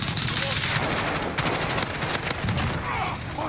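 Loud, dense automatic gunfire in Call of Duty: Modern Warfare multiplayer on PC, with overlapping rapid bursts and cracking shots going on without a break.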